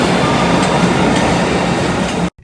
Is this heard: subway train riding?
yes